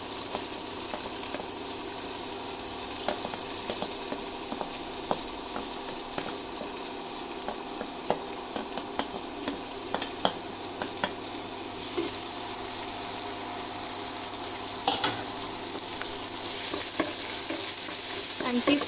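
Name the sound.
stirring frying onions, curry leaves and green chili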